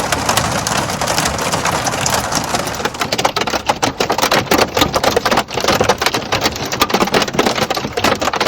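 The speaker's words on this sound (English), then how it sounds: "It is sopping wet, still raining, a little lightning occasionally" Heavy rain during a thunderstorm drumming on the roof of a homemade camper, a loud dense patter of drops that grows more clattering and uneven partway through, with no voices.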